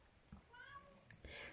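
A house cat meows faintly indoors in a quiet room, with a couple of soft calls and a voice speaking nearby.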